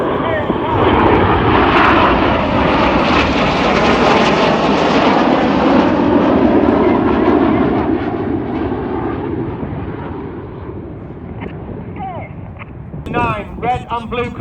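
Red Arrows jets thunder overhead in a full flying display at Old Buckenham Air Show, a loud sustained roar that swells and slowly fades as the formation passes, with a commentator talking over it.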